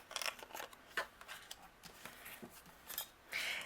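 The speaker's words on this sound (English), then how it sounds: "Anything overhanging, we're going to trim off with the scissors." Scissors trim overhanging edges of card and patterned paper for handmade Christmas cards, a series of short, crisp snips and paper rustles, close and fairly quiet with no talking.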